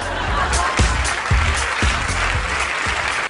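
An audience applauds steadily, a dense wash of clapping with a few heavier thumps under it.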